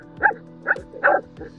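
A dog on a sailing boat in the Bahamas barks in short, close bursts, three or four yelping barks in quick succession over a low background hum.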